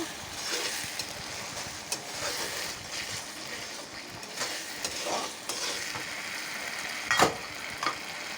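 Fish curry with kochu (taro stems) simmering in a covered pan, a soft bubbling sizzle under the lid with occasional clinks and scrapes, steady and close, no voices.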